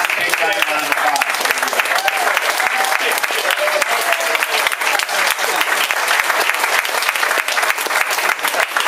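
A crowd at a presentation honoring the Paly girls' volleyball team gives a loud, sustained round of applause, with sharp individual claps and some cheering voices over the steady clapping.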